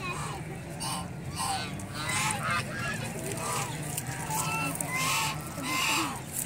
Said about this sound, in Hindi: ये परिंदों की ख़ूबसूरत आवाज़ें, ये कुदरती मौसीकी, ये एक मौसीकियत है।